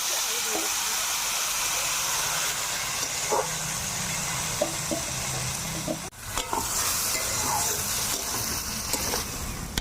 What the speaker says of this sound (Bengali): এখন কালো জিরা ফোড়ন দিয়ে নিচ্ছি